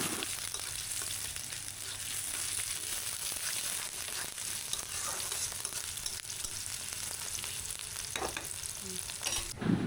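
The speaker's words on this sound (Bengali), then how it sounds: "এবার আস্তে আস্তে নাড়তে থাকবেও, কালারটা যতক্ষণ ব্রাউন না হয় ততক্ষণ আস্তে আস্তে নাড়তে থাকবে।" Garlic sizzles and crackles steadily in a hot pan while being stirred slowly until it browns, a dense continuous frying hiss with faint scraping, no talk, for a Bengali lau chingri dish.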